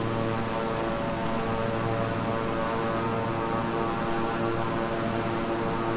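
Twin turboprop engines of a King Air 350i in Microsoft Flight Simulator, a steady loud droning hum with layered tonal whine, constant throughout with no clear spool-down and no talking.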